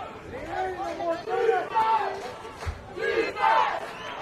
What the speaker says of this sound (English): the Clinton fans are into it. Trying to cheer on their team